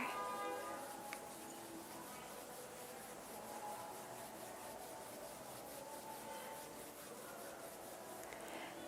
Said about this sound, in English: bring the palms of your hands together at chest level and rub them gently against each other